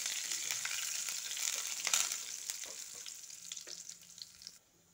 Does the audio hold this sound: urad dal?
yes